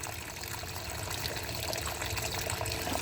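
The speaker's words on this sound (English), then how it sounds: "Twist that lever and that will drain water from your wastewater tank" Wastewater drains from the tank of a 2020 Burstner Lyseo TD 590 motorhome once the lever is twisted open, a continuous close trickling gush of water running steadily and alone.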